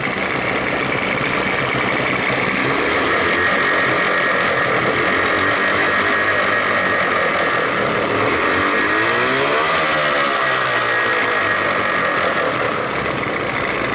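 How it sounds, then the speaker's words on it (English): Johnson 40 hp outboard motor revved gently and held steady, a loud continuous engine drone with a slight rise and fall in pitch around the middle, close by and alone without talk. "Rev it up a couple of not crazy, just a little bit."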